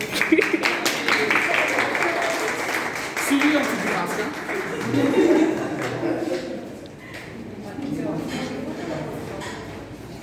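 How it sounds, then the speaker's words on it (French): Indoor audience at a French community anniversary event breaks into applause, a dense clatter of claps over the first seconds that thins out as talk resumes. "Applaudissez."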